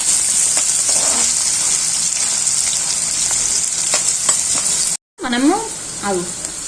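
Green chillies and onions sizzle and fry steadily in a pan for a dry fish curry, a loud continuous hiss with stirring scrapes, briefly cut before a voice speaks near the end.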